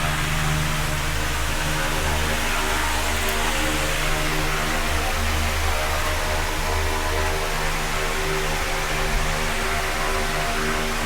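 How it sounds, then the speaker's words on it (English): An electric fan runs steadily inside a camper on a warm summer day, a constant loud whooshing hum with low tonal droning, unbroken throughout and with no voices. "we've got a fan running in here because it's a rather warm summer day"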